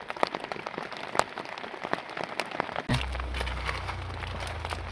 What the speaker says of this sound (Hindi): मेरे को भी नहीं लग रहा है कि बारिश रुकने वाली है।